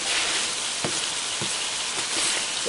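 Ground hamburger browning in a pan with diced onion and garlic added, a steady broad sizzle with a few soft stirring taps over it, close and continuous.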